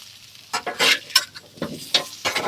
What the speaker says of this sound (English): Now, put the whole griddle here with these potatoes. Take advantage of that hot plate.